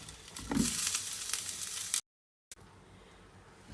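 Pieces of bread toasting on a hot tawa give a steady, soft sizzle that cuts out briefly and then resumes more faintly.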